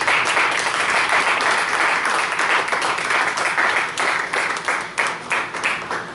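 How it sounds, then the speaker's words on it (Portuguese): A church congregation claps along in praise at a rock worship gathering, loud, dense rhythmic clapping with a crowd murmur that continues throughout. "Louve ao Senhor com as suas palmas."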